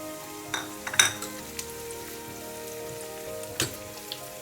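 Ginger garlic paste hits a hot pan and sizzles with a steady close hiss, punctuated by a few sharp metallic clinks and spatters.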